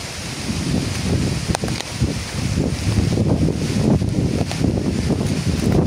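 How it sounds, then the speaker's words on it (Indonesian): Strong wind roars steadily through durian trees with gusty rumbling and rustling, a continuous loud buffeting broken by a few sharp cracks of branches. "Nah, beginilah angin kencang."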